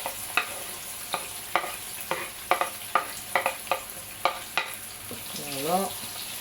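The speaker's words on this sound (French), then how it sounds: "on commence par l'oignon et le courgette" Onion and zucchini frying in oil in a pan, stirred with a utensil: a regular run of sharp scrapes and taps over a steady sizzle, close, with a short voice sound near the end.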